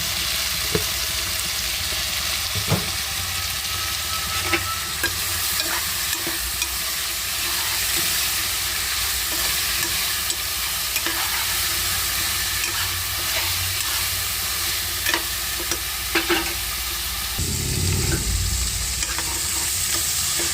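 Salted vegetables for veg biryani frying in a pan, giving a constant loud sizzle and hiss, with occasional utensil taps and a burst of stirring near the end.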